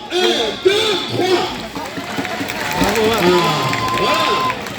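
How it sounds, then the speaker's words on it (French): A lively crowd at a bull-pool show cheers, whoops and shouts together at close range, with excited voices rising over a rough wash of claps and noise. "Je veux tout le monde t'applaudir en même temps"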